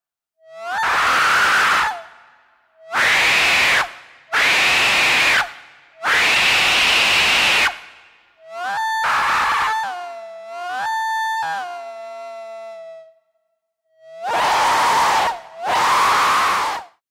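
Recorded human screams ring out loud and close in a series of long, separate bursts with silent gaps between them, broken midway by a tonal, wavering cry.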